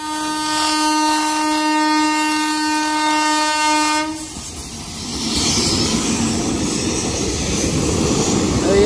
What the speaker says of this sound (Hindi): देखो ट्रेन आ रही इधर से